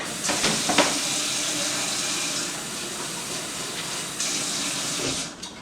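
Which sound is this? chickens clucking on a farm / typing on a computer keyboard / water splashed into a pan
water splashed into a pan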